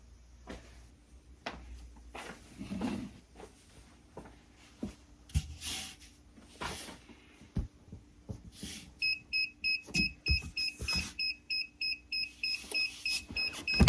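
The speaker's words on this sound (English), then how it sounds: "Close it, and it will beep when it's ready." A tumbler sublimation heat press sounds a run of short, evenly spaced electronic beeps near the end, following quieter clicks and handling noises.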